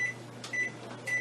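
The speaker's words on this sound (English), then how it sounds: "Set that aside in the microwave." A microwave oven runs with a steady low hum and a faint fan whir, heating a Frito pie ingredient for about a minute and a half, with soft clicks and thin tonal beeps recurring a few times.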